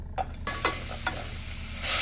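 Onions wilting in a pan with water and no oil at a campsite give a steady, close sizzle broken by a few quick scraping stirs, the hiss swelling louder near the end; nobody speaks.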